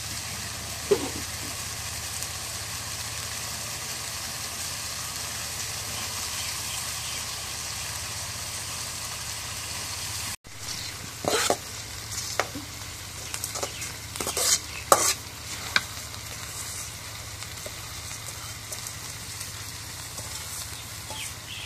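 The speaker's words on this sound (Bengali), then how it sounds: "এখন চাল আর কালাই গুলো দিয়ে দিই" Rice and lentils being stirred into frying broiler chicken for khichuri in a home kitchen, with a steady sizzle in the first half and then louder scraping, stirring clatter later on.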